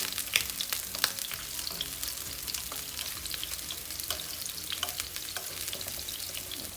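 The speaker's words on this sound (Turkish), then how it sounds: "Güzelce pişirelim. Şöyle çeviriyorum soğanlarımı." Onions for maqluba fry in a pan with a steady crackling sizzle, broken by occasional soft clicks of a utensil turning them.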